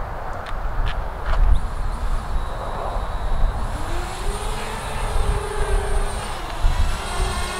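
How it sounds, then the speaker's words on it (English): A DJI Spark drone lifting off by manual takeoff and flying out toward a field, a steady buzzing whine under outdoor wind noise, rising in pitch as it climbs and moves away. "let's go ahead and do a manual takeoff here"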